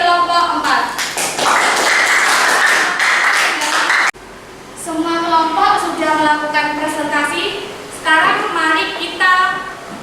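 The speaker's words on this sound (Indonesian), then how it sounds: "kita berikan tepuk tangan atas presentasi kelompok 4" A classroom applauds a group's chemistry presentation with a brief burst of clapping, loud and close, after which a voice speaks alone for the rest of the moment.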